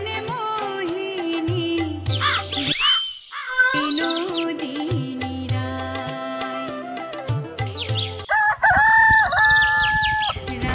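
A rooster crows loudly and close in the morning at a rural home with chickens, several long cock-a-doodle-doo calls with clucking between them, no talking.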